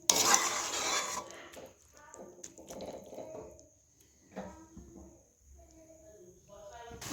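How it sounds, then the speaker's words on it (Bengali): Curry with a little added water stirred in a pot, with clattering spoon-on-metal scrapes and wet sloshing in uneven bursts, interrupted by short pauses, with faint tonal hum in places. "জল দিয়ে ভালোভাবে নেড়ে একটু ফুটিয়ে নেব"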